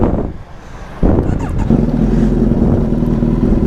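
A Kawasaki Z900 motorcycle engine cranks and fires up close by, then settles into a steady rumbling idle, with some wind buffeting on the microphone.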